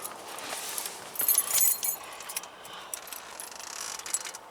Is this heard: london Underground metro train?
no